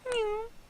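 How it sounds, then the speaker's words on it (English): A short synthetic cat meow plays as the overtime notification in the Tygem Go client, a single clear, close tone that glides gently downward and fades within about half a second. "One of them is like a cat meowing, which is pleasant."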